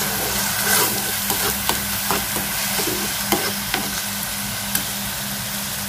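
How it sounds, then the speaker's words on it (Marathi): Masala frying in a pan over a medium gas flame, a steady close sizzle with light irregular stirring clicks and scrapes throughout, no talking. "मीडियम गॅस ठेवायचा मसाला फ्राय करताना"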